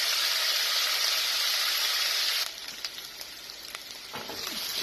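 Fish simmers in tahini sauce in a pan, a steady bright sizzling hiss that drops to a softer, gentler bubbling halfway through, with faint crackles and pops.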